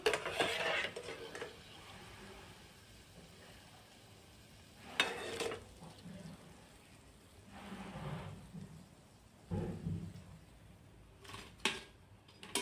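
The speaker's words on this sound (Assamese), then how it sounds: "এনেদৰে বাকীকেইটাও ভাজি লওঁ।" Quiet sizzling of food frying in oil, a soft crackling hiss with several louder bursts of spattering at irregular moments.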